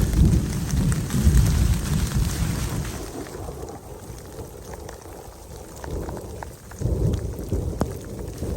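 Heavy rain pours steadily while low thunder rumbles and rolls in the distance, easing slightly midway before swelling again.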